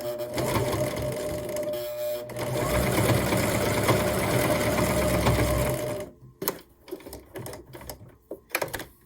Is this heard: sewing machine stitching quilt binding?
yes